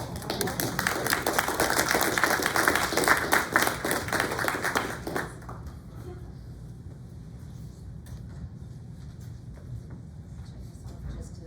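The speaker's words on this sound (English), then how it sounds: "What a round of applause for Miss Shannon." An audience applauds Miss Shannon with dense, loud clapping for about five seconds, then it abruptly drops away to quieter background noise with faint tapping.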